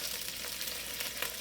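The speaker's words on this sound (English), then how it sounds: "This process is called frying our paste." Thick tomato paste fries in hot oil, a steady close sizzle and crackle with a few sharper pops of splattering oil throughout.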